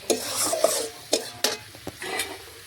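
Beans and potatoes sauté in a pan as a spatula stirs them, with a soft sizzle broken by several sharp scraping strokes close by, no voices.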